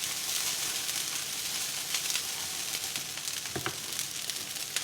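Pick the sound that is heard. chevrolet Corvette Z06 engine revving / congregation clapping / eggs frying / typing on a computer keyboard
eggs frying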